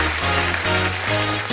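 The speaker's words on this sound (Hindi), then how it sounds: "एक बार जोरदार तालियां हमारे मेहमानों के लिए।" A studio audience on a comedy talk show applauds guests, steady clapping layered over loud music with a deep repeating bass line throughout.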